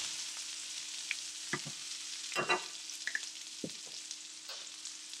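Mushrooms and onions frying in oil together in a pan, a steady soft sizzle running throughout with occasional stirring clatters and scrapes, close and moderately quiet, no talking.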